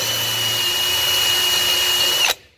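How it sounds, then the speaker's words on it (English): A power drill boring a hole for a VEX robotics shaft, a steady high whine at constant speed, loud and close, cutting off abruptly near the end into near silence. "we can simply chuck that up in the drill bit, and it self-centers on the hole as you drill"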